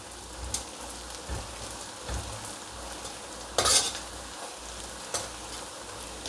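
Shallots and garlic frying in oil in a home kitchen, a continuous hissing sizzle like light rain with a few sharper spatters and stirring knocks, close and steady, without talking.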